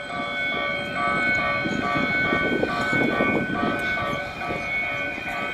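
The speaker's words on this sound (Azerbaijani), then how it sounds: "Burada da qatardır. Deyəsən yola düşməyə hazırlaşır." A train idles before departure on a seaside boulevard in Baku, Azerbaijan, giving off a steady mechanical hum with a tonal drone and low rumble, close and continuous throughout.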